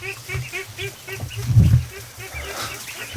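Premature ducklings and goslings peep and call in quick, repeated chirps on fresh straw in a rescue pen, nearby and fairly loud, with a soft rustle in the middle and a few lower honking tones mixed in.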